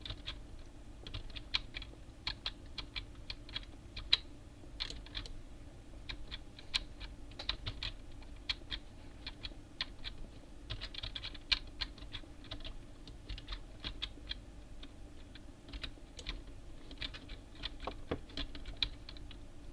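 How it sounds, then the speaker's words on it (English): Rapid clacky keystrokes on a mechanical keyboard, irregular bursts of crisp clicks continuing steadily and fairly close. "I hear a gamer keyboard. It's a clicky clacky"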